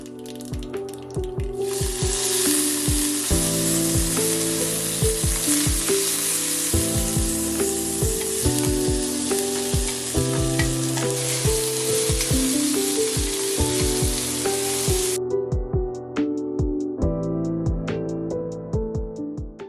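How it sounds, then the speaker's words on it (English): Mustard seeds, whole green chilies and curry leaves hit hot oil in a pan with a sudden loud, crackling sizzle that runs steadily for several seconds, then cuts off; soft background music plays throughout. "Follow up the simmering black rum with some mustard seeds, some whole green chilies, and curry leaves"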